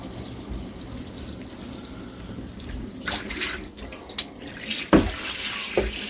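Tap water pours into a filter tank in a steady broadband rush, with a few brief knocks and splashes near the end and no talking.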